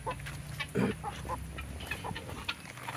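Backyard poultry, mostly chickens with turkeys, geese and guinea fowl kept nearby, cluck in short scattered bursts over a steady rainy background, close and moderately loud with one louder squawk early on.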